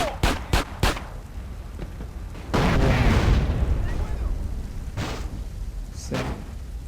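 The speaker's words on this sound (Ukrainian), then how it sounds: "беру базуку, наводжуся і надаю постріл" In GTA San Andreas, a heavy bazooka blast booms and rolls on for several seconds after a few quick sharp shots, with a later thump and speech underneath.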